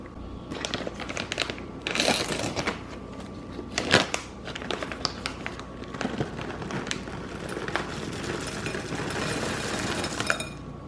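Lily's chocolate chips spill from a bag into a bowl, making a run of dense clattering and rustling with irregular bursts, close by, with no voices.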